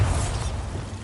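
The Bombarda blasting spell in Hogwarts Legacy, a single dense low-heavy burst with a rumbling, crunching texture lasting about a second.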